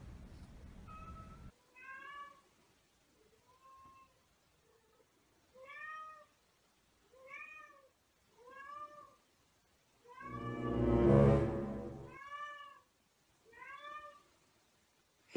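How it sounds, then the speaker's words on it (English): A cat meows repeatedly at night, with about nine separate calls spaced a second or two apart. One louder, drawn-out, wailing cry comes near the end. No one speaks. "Can you please stop meowing?"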